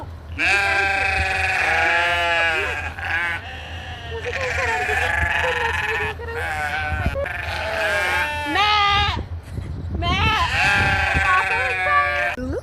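A brown goat at a busy village market bleats several times, loud and close, in long wavering cries, while people talk nearby.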